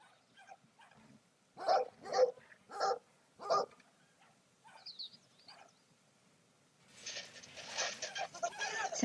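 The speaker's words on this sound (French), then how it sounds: "En plus, c'est un tout petit chien." A very small dog in the video game Brothers: A Tale of Two Sons, giving a run of four loud sharp barks, then softer yips, followed by broadband game noise.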